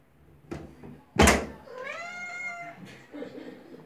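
A cat at a bathroom door gives one clear, drawn-out meow after a sharp thump against the door, followed by a few softer bumps and faint sounds.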